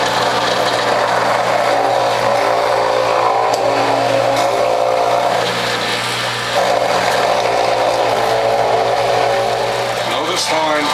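A Whole Health Foundation juicer grinds garden beets with a steady, loud mechanical whir and crunching texture throughout, a continuous motor hum beneath it and brief surges as the vegetables feed through.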